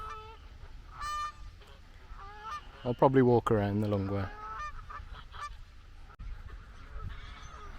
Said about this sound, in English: If you can get past all the ducks and geese or whatever,